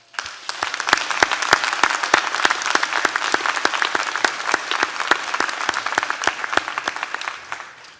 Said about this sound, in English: Let's turn around and give them a big round of applause.